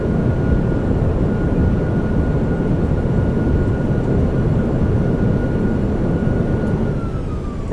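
PMDG 737-800 in a flight simulator on landing rollout with thrust reversers deployed, a loud continuous broadband jet roar with a faint steady tonal whine, holding level throughout with no talking.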